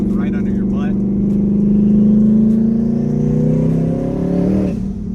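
A 1000hp turbocharged drag car accelerating on the street, its engine tone climbing steadily in a loud, close drone with a brief whoosh near the end, heard from inside the car.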